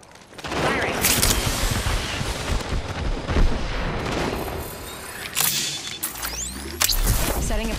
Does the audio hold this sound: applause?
no